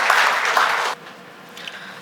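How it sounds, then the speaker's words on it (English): Brief burst of audience applause in a hall honouring an entrepreneur, loud for about a second then cutting off sharply, leaving faint room noise and a small stray sound afterward. "Can we all have a huge round of applause for Padma Shri Kalpana Saroj ma'am?"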